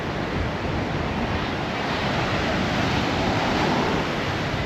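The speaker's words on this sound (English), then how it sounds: "Incredible beach." Surf washing steadily onto a beach beside a hotel strip, a continuous broad roar of breaking waves mixed with some wind noise, close and fairly loud with no talking.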